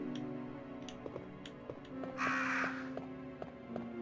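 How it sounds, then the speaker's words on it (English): Crows caw in the Resident Evil: Deadly Silence video game, a raspy burst of cawing around the middle of the clip over steady, rhythmic background music with ticking beats. "Just let those crows be."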